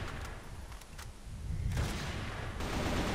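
Gunfire in the shooter game Crossfire, rapid bursts of shots over a dense, rumbling battle din that swells louder toward the end.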